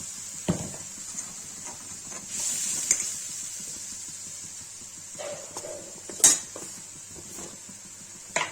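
Tomatoes tipped into frying potatoes for Kashmiri paneer aloo and stirred, heard as faint scraping of a utensil against the pan, occasional metallic clinks and a low sizzle, fairly quiet and close.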